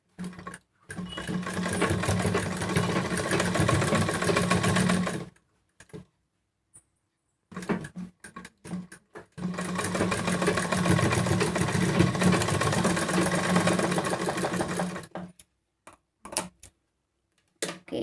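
An electric sewing machine stitches along the edge of a homemade cloth face mask, running in two long steady bursts separated by short pauses and brief start-stop taps, close and clear with no talking.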